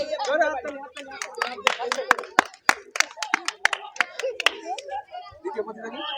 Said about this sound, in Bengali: এ কিন্তু আজকের খেলা আমাদের ফার্স্ট প্রতিযোগী, সকালে জোরে একবার হাততালি